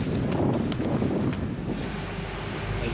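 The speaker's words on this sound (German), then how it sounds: "weil die Welle hier von der Seite kommt" Waves slap the side of a small pleasure boat leaving Wemeldinge harbour in the Netherlands, under steady, loud wind buffeting that roars and rushes throughout with no voices.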